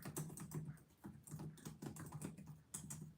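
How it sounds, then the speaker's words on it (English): Soft, quick keystrokes tap away on a computer keyboard in a steady patter with brief pauses, close by and quiet. "I'm typing this in the chat."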